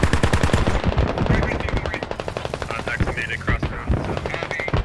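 Rapid machine-gun bursts and rifle fire in the military shooter game Squad, loud dense volleys with short pauses, while players talk over the radio.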